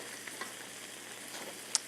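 Stuffed chicken breasts sear in a hot pan with a steady, close frying sizzle and scattered pops, one sharper crackle near the end; no talking.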